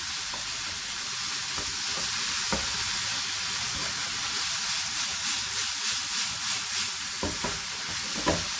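Rice being stirred in a pan over high heat, with a steady loud sizzle and frying hiss throughout and occasional scraping of the spoon.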